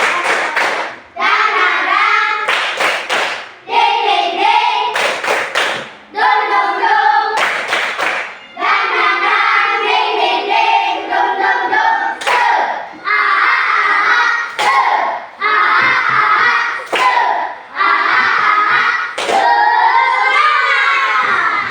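A classroom of children performs a rhythmic spirit clap led by their teacher, sharp patterned bursts of hand claps alternating with loud chanted voices in a repeating cadence.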